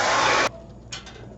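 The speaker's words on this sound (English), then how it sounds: "I'll get my hair dryer." A hair dryer on its cool setting, used while making collage pieces, blows a steady broadband rush for about half a second and then cuts off abruptly, leaving quiet room tone.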